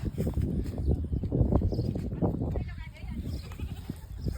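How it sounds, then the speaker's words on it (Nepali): A young goat kid bleats repeatedly near a maize field, its cries mixed with people talking close by and some footsteps. "पाठा पाठा रहेछ"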